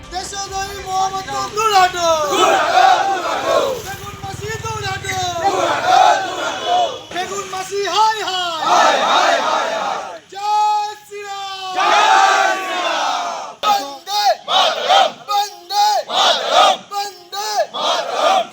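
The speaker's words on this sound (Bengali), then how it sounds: "সেই সময় সার্কিট হাউসের বাইরে বিজেপির একদল কর্মী সমর্থক জড়ো হয়ে তার বিরুদ্ধে স্লোগান দিতে শুরু করেন" A crowd of BJP workers and supporters chants protest slogans outside a circuit house in Krishnanagar, a lead voice calling out and many voices answering in loud, rhythmic, repeated bursts.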